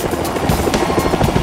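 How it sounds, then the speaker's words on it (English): A Black Hawk helicopter sets down during a Border Patrol rescue, its rotor thudding loud and close with a steady chopping rhythm over a broad whooshing roar, alone without talk. "the pilot skillfully maneuvers the Black Hawk helicopter into a secured landing position"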